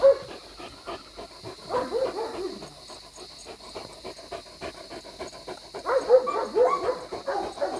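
A dog pants, whimpers and gives short barks and yips in a breeding-pairing setting, the sounds close and intermittent over a faint steady background hum, with brief bursts near the start and end.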